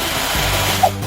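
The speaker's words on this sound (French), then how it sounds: "Ce n'est pas grave. J'ai une perceuse." A power drill boring into a hard prison wall, a loud continuous whirring grind close by, with one brief squeal near the end.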